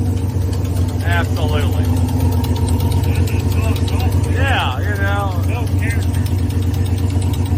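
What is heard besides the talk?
car engine idling with an exhaust leak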